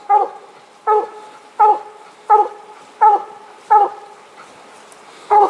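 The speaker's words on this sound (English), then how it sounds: "right there is one of the finest coon dogs to me that I've been with in years" Coon hound baying on the trail during a hunt, seven evenly spaced loud drawn-out bawls about every seventy-five hundredths of a second, clear and fairly close with quiet gaps between.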